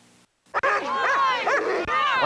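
Sled dogs bark and yip excitedly at a sled dog race, the Granby Classic, a dense chorus of close, loud barks and whines filling the scene after a brief quiet start.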